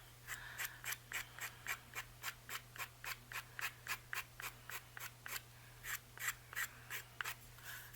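Fine-grit sandpaper rasps against notebook page edges in about two dozen quick, even back-and-forth strokes, close and fairly quiet, over a faint steady hum.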